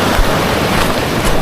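Big ocean waves rush loudly at a seaside fishing spot, a dense continuous roar of surf mixed with wind buffeting the microphone, with no talking.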